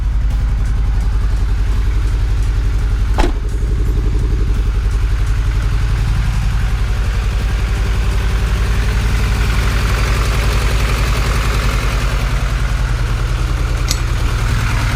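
Supercharged Honda Integra engine misfiring at idle, heard up close as a loud, continuous low rumble with irregular uneven beats, a sharp click near the start and a faint tick later.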